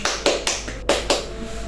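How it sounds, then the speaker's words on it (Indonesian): Five or so sharp, separate hand claps in a small classroom during a microteaching lesson, spaced unevenly and close, with no crowd behind them. "Beri tepuk tangan untuk kita semua."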